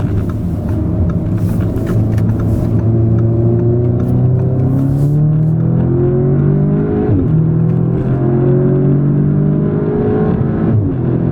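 A 2017 Audi S3 four-cylinder engine accelerates hard through rapid dual-clutch upshifts, its loud rising drone broken by quick brief dips at each shift, heard steadily from inside the car.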